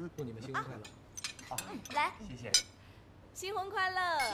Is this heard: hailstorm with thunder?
no